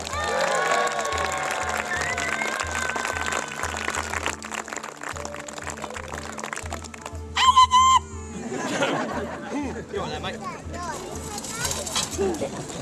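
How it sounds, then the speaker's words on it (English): Audience at a family knights tournament show applauds and cheers, crowd noise rising in bursts and chatter with children's voices, while an announcer speaks over the din. "Please make some noise for your runner-up, Sir James!"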